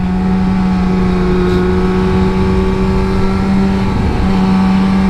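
A 2002 Yamaha R6 motorcycle on a tight, twisty road holds a loud steady engine drone with a strong constant tone, heard close with wind noise and a slight shift in pitch near the end.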